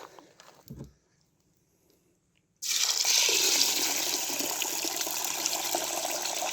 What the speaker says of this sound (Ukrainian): Такс заливаємо води.